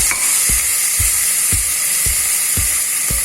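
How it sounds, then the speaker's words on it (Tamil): Ginger and garlic fry in a pan for mutton pepper thokku, a loud steady sizzle broken by regular rhythmic thumps of stirring, about one every half second. "இப்போ இஞ்சி பூண்டு போட்டு 2 வதங்கின அப்புறமா"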